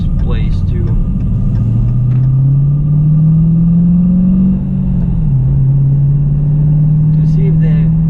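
A 2018 Dodge Challenger R/T 392 Scat Pack with its 6.4L Hemi V8, an Airaid cold air intake and the resonators still fitted, rumbles steadily as it is driven. The engine note swells gradually and then holds, loud and close inside the cabin.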